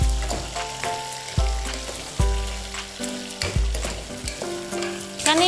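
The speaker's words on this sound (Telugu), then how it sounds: "సో మనం జస్ట్ ఇట్లాగా ఒకసారి మిక్స్ చేద్దాం." Hyderabadi paya being stirred and fried in a pan, with a steady sizzle under repeated scraping strokes of a spoon against the metal, close and loud with no talk.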